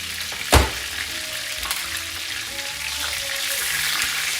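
Tortillas frying and sizzling in a taco cooker, a steady crackling sizzle that begins with a sharp knock and then keeps hissing at an even level.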